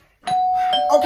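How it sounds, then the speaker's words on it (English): Home doorbell ringing, a single sustained electronic chime starting after a brief silence and sounding close and clear, with a voice overlapping near the end. "Stop ringing my damn doorbell."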